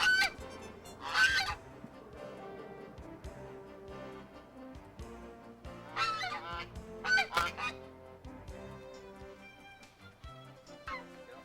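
Geese honk at a zoo in irregular bursts, a few loud clustered honks rising over quieter calls and soft background bird activity, fairly close.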